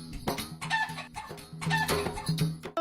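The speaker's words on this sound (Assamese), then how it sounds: "ব্ৰইলাৰটোৰ ডিঙিত ওলমি আছে মন্ত্ৰী চন্দ্ৰমোহনৰ নাম" Chickens cluck and squawk repeatedly at a street protest against a bill, a dense, continuous, fairly close flock sound with no talk over it.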